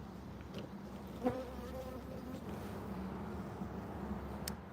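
Honey bees buzz steadily around a bee box at close range, a dense, continuous drone with one brief louder thump.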